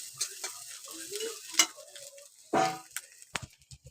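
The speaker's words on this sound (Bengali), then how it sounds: "তো এটা আমি একটু ভালো করে ভেজে নেব।" Ingredients for chowmein sizzle in a hot pan, with bursts of frying hiss and a few clicks and scrapes of a spatula between quieter moments.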